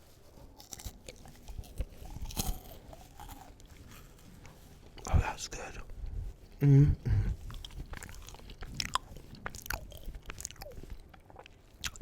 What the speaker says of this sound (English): Now I'm going to chew upon it.